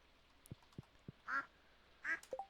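Duck quacking in the video game Stardew Valley: a few soft low clucks, then two louder, clear nasal quacks and a short final burst, close and on their own.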